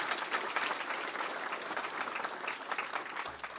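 A room of attendees at a legal award presentation claps steadily as speakers walk to the stage, even and moderately distant applause throughout.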